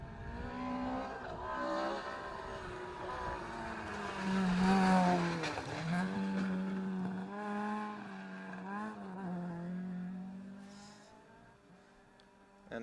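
A clubman-spec Ford Escort rally car roars past on a stage, its engine loud and continuous with rising and falling revs and gear changes as it approaches, passes close and fades slightly.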